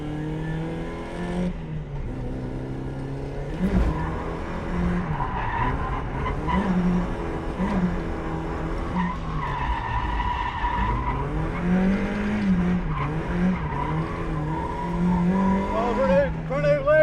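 A Mazda MX-5 Miata drifts around a big corner, its engine revving up and down in surging pitch while tires squeal and skid continuously, loud and close throughout.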